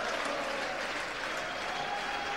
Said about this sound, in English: Falkirk with a very big backing here today, applauding their fans, and vice versa